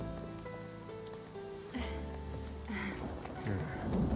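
Rain falling on surfaces in Final Fantasy VII Remake, a soft hiss of raindrops under game music tones and brief character voices.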